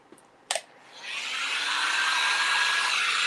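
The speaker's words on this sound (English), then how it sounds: "So I turn my heat tool down a little bit so it's still hot." After a brief click, a craft heat tool turned down to a lower setting switches on and blows a steady, loud whirring hiss to dry decoupage medium on a bee and butterfly decor piece.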